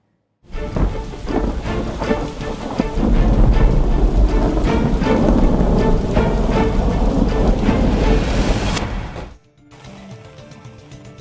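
Heavy rain pours steadily in Tamil Nadu while thunder rumbles and cracks loudly through the downpour, building up then cutting off abruptly near the end, with only rain noise after.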